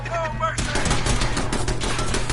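Automatic turret gunfire in the Fallout 4 video game, a dense rapid rattle of shots that bursts in after a brief quieter moment and keeps hammering steadily at close range.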